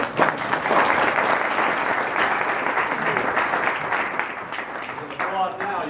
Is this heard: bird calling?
no